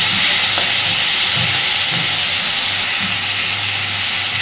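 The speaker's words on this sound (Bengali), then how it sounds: "আলুটাকে দিয়ে মিনিট 2-3 ভালোভাবে নাড়াচাড়া করে একটু ভেজে নেব।" Potatoes tossed with vinegar sizzle in hot oil in a pan, a loud steady frying hiss throughout with faint stirring knocks underneath.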